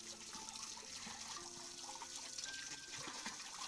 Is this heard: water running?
yes